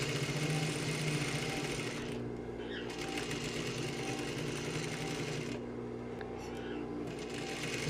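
A sewing machine stitching fabric runs in close, rapid mechanical bursts, stopping briefly midway and again near the end, with faint room noise in the pauses.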